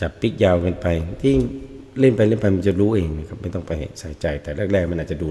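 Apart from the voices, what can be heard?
No everyday noises stand out.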